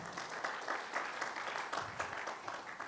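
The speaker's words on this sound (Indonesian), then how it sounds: "Berikan tepuk tangan." Church congregation applauding during a Sunday worship service, a steady wash of many hands clapping at moderate distance, fairly even throughout with no talk over it.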